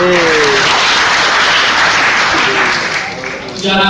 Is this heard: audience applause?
yes